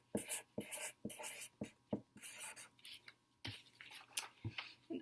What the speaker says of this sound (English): I'm going to write it out so you can see what it looks like